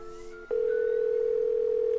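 A steady telephone dial tone from the Nancy Drew game White Wolf of Icicle Creek starts abruptly after a brief quieter tone and holds loud and unbroken to the end, with no voices.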